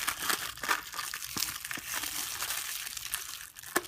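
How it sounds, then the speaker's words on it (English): Close crinkling and crackling of thin plastic film being peeled off a frozen kid's pizza meal, with scattered sharp crackles over about four seconds, fairly quiet. "So we remove the film cover completely."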